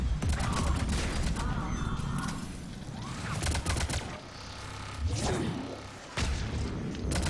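Grenade blast and heavy firefight in Mass Effect 3, with loud dense gunfire up close and sharp thudding impacts and bursts breaking through, while someone talks intermittently.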